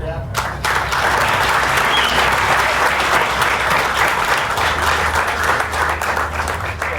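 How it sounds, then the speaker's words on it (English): Applause from a room full of insurance advocates at a talk, loud dense clapping that swells in after a brief pause and holds steady to the end. "give him a round of applause"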